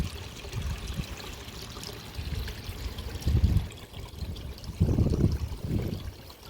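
Backyard waterfall spilling into a pond, a continuous trickling and splashing flow with louder gushing surges, close by and without talk.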